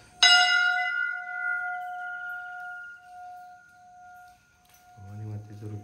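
A single strike of a temple bell at Bhavani Mata temple, a sharp clang that rings on with a long, slowly fading metallic tone, before a voice begins speaking at the end.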